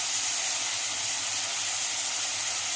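Onions frying in a pan for dried prawn curry with green chillies and salt give a steady, close sizzling hiss that carries on evenly without a break.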